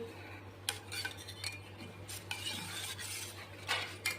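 Faint scraping and clinking from a spoon stirring cardamom powder into a cooled, thickened homemade ice cream mixture. The strokes are soft and intermittent over a steady low electrical hum, with no voices.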